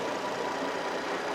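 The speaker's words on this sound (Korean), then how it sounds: "자 그럼 엔진 소리 한번 들려드릴게요" A Renault Samsung SM7 car engine idles in a steady, even hum heard up close, with no talk over it.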